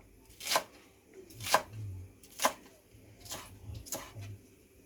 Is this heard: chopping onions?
yes